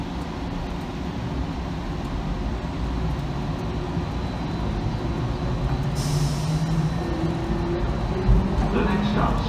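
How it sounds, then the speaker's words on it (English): Airport people-mover train pulling away from a terminal station, a steady rumbling hum with a rising motor whine and a brief hiss partway through, heard from inside the car. "Please hold on. This train is departing."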